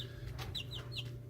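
Young Plymouth Rock backyard chickens cluck softly in short repeated calls, several quick clucks close by over a steady low background hum.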